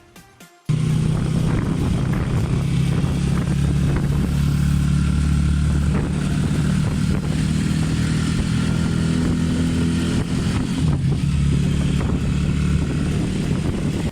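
A motorized tricycle carries passengers toward the jetty port on the way to Boracay, its engine droning loudly and steadily with rattling clatter after a brief quiet moment at the start.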